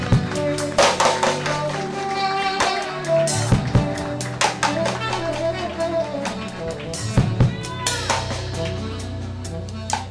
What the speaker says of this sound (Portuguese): Aplaude o Senhor, aplaude.